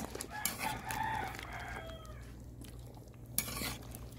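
A rooster crows at a distance, its call drawn out over a low steady background hum, with a few clinks and stirring noises nearby.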